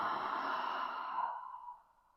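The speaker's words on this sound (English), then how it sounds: "taking a nice deep breath." A deep, slow exhale during seated chair yoga breathing, a soft airy breath that fades out over about two seconds, close and quiet.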